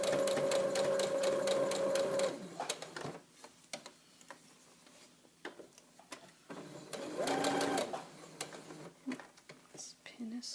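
A sewing machine stitches fabric for the head of a memory bear, running in a steady rapid whir for about two seconds, then in short bursts and a longer run with quiet gaps of handling between, close and fairly soft.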